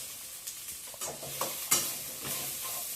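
Masala ingredients are dry-roasted and stirred in a pan for fish sambar, with a soft scraping, rustling sizzle and occasional sharper knocks of the spoon against the pan.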